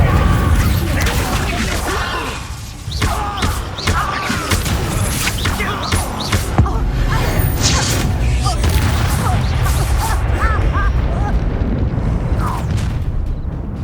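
Fiery spell blast in Hogwarts Legacy during a wizard duel: a dense, loud burst of booming, crackling game combat effects with rumbling impacts sustained throughout, busy and cluttered with no clear gaps.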